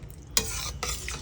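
Spoon stirring chicken curry with bottle gourd in a pan: two scraping stirs over soft sizzling, close and fairly quiet, with no talking.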